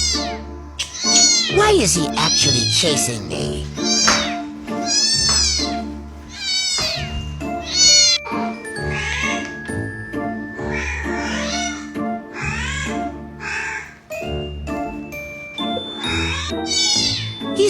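A cat meows and caterwauls repeatedly in reaction to played cat sounds, loud and close, with a person talking over and between the calls.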